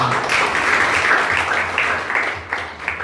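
Church congregation clapping in applause for the Lord, a steady dense wash of hands filling the room for about three seconds with no voice on top.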